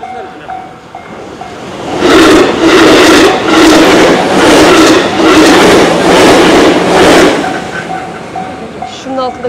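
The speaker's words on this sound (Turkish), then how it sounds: "Tren gelecekmiş de kapattı şurayı." A train rumbles loudly past a level crossing in Kyoto, Japan, at close range for several seconds, its rhythmic clatter rising and fading, while the crossing bell dings before and after.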